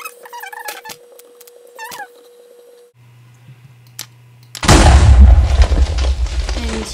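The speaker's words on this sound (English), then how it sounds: "I accidentally blew up a nuclear explosive" A nuclear explosive from a Minecraft explosives mod goes off after a stretch of small beeps and squeaky game sounds and a low hum, ending in a sudden loud, roaring blast that rumbles on to the end.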